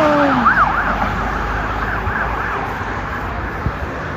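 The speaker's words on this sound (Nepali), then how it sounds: "एम्बुलेन्स रहेछ" An ambulance siren wails past on a street, its rising and falling tone loud at first and then fading into the steady roar of road traffic.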